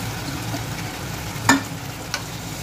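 Marinated chicken going into a hot pan for a raw mango chicken curry, a steady close sizzle and crackle of frying oil with a couple of brief stirring knocks.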